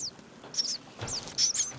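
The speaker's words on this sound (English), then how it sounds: "I was just walking around and I just found these baby birds here." Baby birds chirping in a nest, with high, thin cheeps coming in small clustered bursts close by against a quiet outdoor background.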